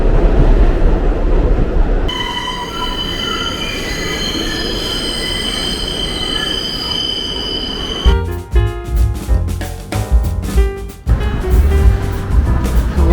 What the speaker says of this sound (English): So unusual to have the subways empty and to be riding them in New York